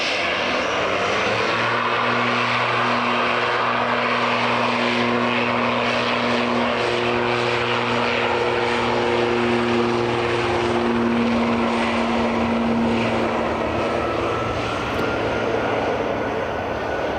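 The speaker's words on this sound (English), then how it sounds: "JetBlue A321 Neo is just taxiing along there now." A JetBlue Airbus A321neo taxis at Edinburgh Airport, its engines giving a loud, continuous roar with steady droning tones that hold throughout the whole stretch.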